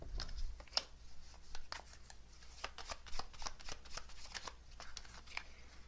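Tarot cards are shuffled in quick, crisp riffles and snaps, a rapid run of close, light flicks and slides.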